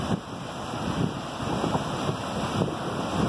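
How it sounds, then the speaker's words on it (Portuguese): Big ocean waves crash against rocks under gusty wind, a continuous windy roar with swelling surges, heard from a distance along a rough shoreline. "Altas ondas"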